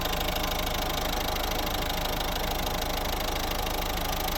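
A warmed-up 2011 Mazda 5 1.6 diesel engine idles steadily with a constant rumbling, faintly knocking drone, close and unchanging throughout, with no one talking.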